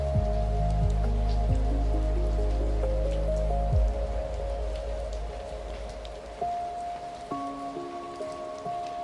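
Rain falls around a cabin in a soft, steady wash of patter, with a few low tones fading in and out underneath it.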